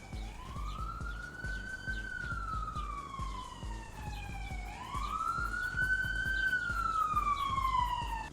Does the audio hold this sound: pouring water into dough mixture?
no